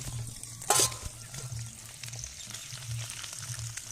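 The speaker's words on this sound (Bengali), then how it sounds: "আর এপিটটা লাল লাল করে ভেজে নেবো এইভাবে" Tilapia fish frying in hot oil, a close, continuous sizzle with a soft crackle, a brief sharp burst of spatter near the start and a low steady hum beneath, no talking.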